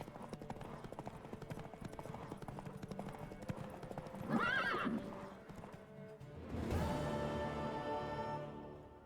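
In The Witcher 3: Wild Hunt, hooves clip-clop steadily, then a horse neighs loudly partway through, followed by another whinny and snorting near the end, with a faint background bed.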